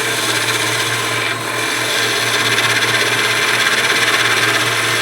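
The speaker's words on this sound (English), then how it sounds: "I'm still going to take my skew chisel and make a very light planing cut across here" A skew chisel takes a light planing cut across a piece of wood spinning on a lathe while turning beads. The cutting makes a continuous, loud shaving hiss over the steady hum of the lathe, with a brief dip partway through.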